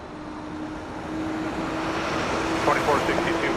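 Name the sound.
Transat A319 airliner on final approach at Toronto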